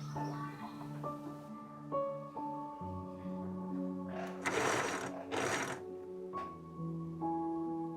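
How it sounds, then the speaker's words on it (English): A sewing machine stitches gathered pleats of fabric for smocking, running in two short whirring bursts over a steady tonal background. "enjoying the rhythm of the machine as it catches each pleat"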